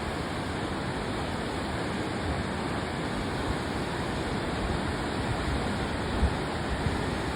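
River rapids in Columbus, Georgia rush in a dense, unbroken roar of churning water, loud and constant throughout with no distinct voices.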